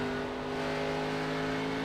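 A race car engine holds a steady, loud, droning roar at full throttle during an oval-track racing video game, with no breaks or shifts in level.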